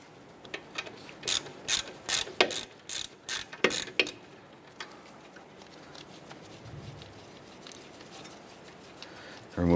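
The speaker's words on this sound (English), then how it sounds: "Using a 12mm socket, go ahead and remove our flex line bolt for the bracket." Ratchet wrench with a 12mm socket loosening the brake flex line bracket bolt on a 2008-2012 Honda Accord, a burst of repeated clicking strokes in the first few seconds, close and clear, then quiet.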